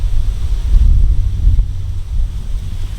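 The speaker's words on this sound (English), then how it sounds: "the wind's picked up" Strong wind gusts buffet the microphone at a lakeside carp fishing swim, a heavy low rumble that swells and eases with the gusts, and no one speaks.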